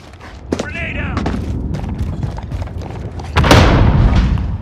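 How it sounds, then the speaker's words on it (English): A grenade explosion in Call of Duty: Modern Warfare multiplayer hits as a sudden heavy boom near the end, following clattering gunfire and a brief shout. "Grenade"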